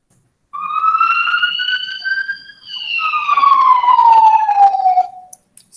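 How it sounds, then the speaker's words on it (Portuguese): An ambulance siren sweeps past, its wailing tone gliding upward as it approaches and then dropping lower and duller as it moves away, loud and clear, with no other sounds. "eu coloquei o som da ambulância, de uma sirene"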